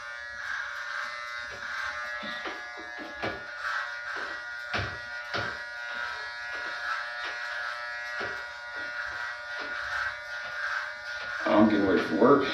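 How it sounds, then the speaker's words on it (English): An Andis T-Outliner electric trimmer shaves a head, giving a steady close buzz with light scraping strokes and short clicks as it passes over the scalp, louder rattling near the end. "a quick way to give yourself a nice bald head haircut using the Andis T outliners"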